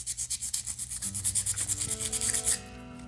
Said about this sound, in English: scuff this up a little bit, and all those tiny little scratches that you're putting in there are going to allow that CA glue to get in and dry